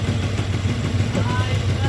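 A Honda Wave CX 110 motorcycle engine idles roughly nearby with a steady low rumble and uneven pulsing, suggesting a running fault, while someone talks over it.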